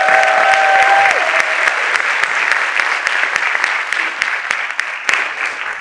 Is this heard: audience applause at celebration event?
yes